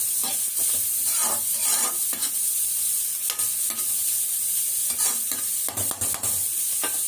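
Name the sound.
beans and carrots stir-frying in a pan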